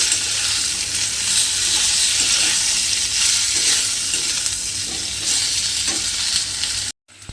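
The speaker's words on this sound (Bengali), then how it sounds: "ঢ্যাঁড়সগুলো আমি এখানে ভেজে নিচ্ছি" Spice-coated okra fries in hot oil, a loud, dense, continuous sizzle close up that holds steady for several seconds, then cuts off abruptly near the end, with no voices over it.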